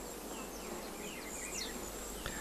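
Steady buzzing of oil-collecting bees in flight around Stigmaphyllon flowers, with several faint buzzes drifting past over a constant hum of background noise.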